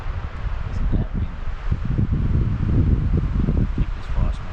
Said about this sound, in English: Isn't that windy?